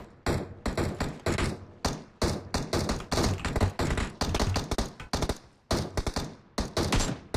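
Rapid bursts of M16 gunfire in a PUBG Mobile match, sharp cracking shots in quick volleys separated by short pauses, loud and close for several seconds.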